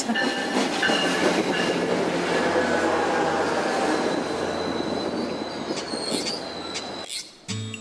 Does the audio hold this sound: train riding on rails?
yes